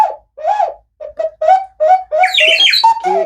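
A ceramic whistle tuned to mimic a turtle dove produces a series of loud, close, hooting coos in short repeated notes, ending with a brighter, more warbled blast.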